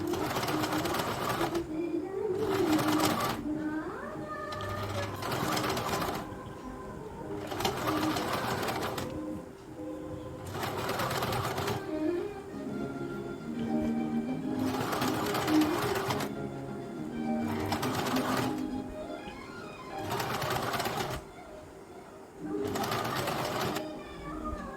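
A domestic sewing machine stitches the sleeve of a princess-cut deep-neck blouse at the shoulder, running in repeated bursts of rapid whirring with short pauses between them, while someone talks over the sewing.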